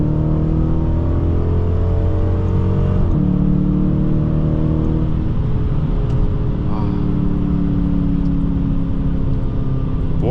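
A Dodge Challenger R/T in sport mode launches hard, its engine note climbing through rising revs, dropping at a gear change, then pulling again with a whining tone, loud and close from inside the car.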